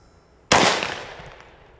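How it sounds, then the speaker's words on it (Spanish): A single 10mm pistol shot fired outdoors, one sharp loud crack that decays over about a second, with no talk around it. "Vamos a dispararle ahora con la 10"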